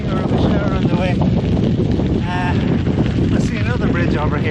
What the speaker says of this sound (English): It's getting quite windy now